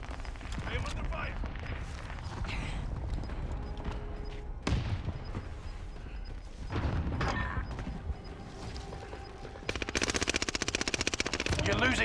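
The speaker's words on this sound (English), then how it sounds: "I am under fire." Gunfire in the video game Call of Duty: Warzone Pacific, a steady din of shots and automatic bursts with a sharp burst of rapid fire near the end, and in-game voices call out over it.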